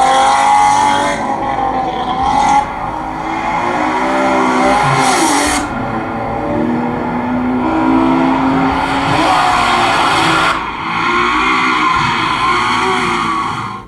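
A Nissan car engine roars loudly and continuously, with revving swells and tire-squeal-like edges, close and dominant throughout with no voices over it, played as a round of a guess-the-car sound game.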